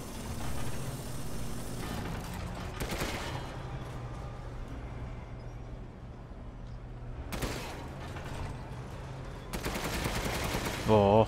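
Rapid bursts of heavy gunfire from a tank in the video game Resident Evil Village, with loud blasts near the start and end over a constant engine rumble.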